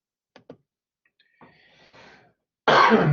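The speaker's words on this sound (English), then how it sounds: "just got a cough there." Two short throat sounds are followed by a muffled cough, then a loud, sudden broadband cough burst close to the microphone. No one speaks.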